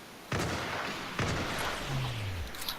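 Confederate artillery bombardment in a Fortnite Civil War Battle of Gettysburg recreation, two sharp, loud cannon booms about a second apart with reverberating tails, followed by a falling whistle and distant rumbling.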